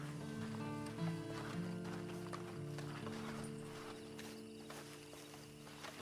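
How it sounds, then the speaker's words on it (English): Horse hooves clip-clop at a walk in the Western video game Red Dead Redemption 2, a steady moderate rhythm under a droning musical score with no voices. "And you better get on this horse."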